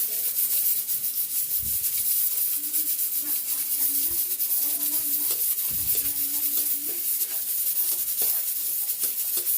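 Onion sautés in a pan, giving a soft, steady sizzle with intermittent stirring and rubbing scrapes, fairly quiet and close, with faint background tones in places.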